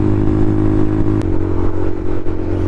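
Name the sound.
Honda Monkey bike with Yoshimura exhaust revving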